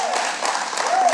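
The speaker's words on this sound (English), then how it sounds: "Please hold your applause for a moment." People at a city historic district commission meeting applaud in a brief, even patter. A voice briefly rises above the clapping.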